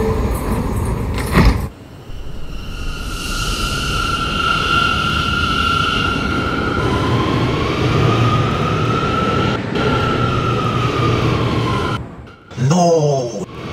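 An R179 C local subway train bound for Euclid Avenue runs along the track with a steady, loud rumble and rising whine from inside the car, ending in a short burst of different noise.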